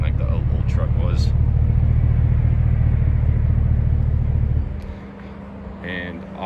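A 2019 Silverado truck idles after startup with a steady, deep engine rumble for several seconds before it drops away, with faint speech at times.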